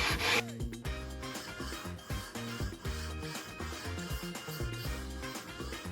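Rhythmic scraping strokes of sanding on a maple guitar neck repeat steadily back and forth, close and continuous, with no talking.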